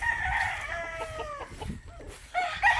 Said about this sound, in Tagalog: yung mga pulit na dadalhin natin sa pestag